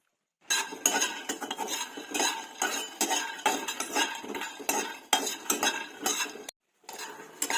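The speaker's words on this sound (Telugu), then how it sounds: "ముందుగా పల్లీలు ముక్కుడులో వేయించుకోవాలి" Peanuts being dry-roasted in a pan on a gas stove for chutney, with steady scraping and clinking of a utensil against the metal, continuous and close, with one brief gap near the end.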